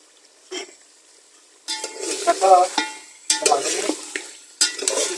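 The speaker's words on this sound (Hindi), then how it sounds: "जब हम पानी डालेंगे उसके साथ ही हम ये अपने साबुत मसाले शामिल कर" Water and whole spices, cumin, black pepper and cloves, go into a hot pot of chicken pulao, with bursts of loud sizzling and stirring clatter at close range between quieter pauses.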